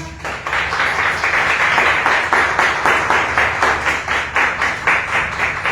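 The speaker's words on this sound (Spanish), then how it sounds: "Vamos a darle un fuerte aplauso" Church congregation claps strongly together in a fast, fairly regular rhythm, a dense close burst of applause that pulses steadily with no break.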